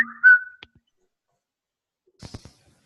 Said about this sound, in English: Somebody whistled at me.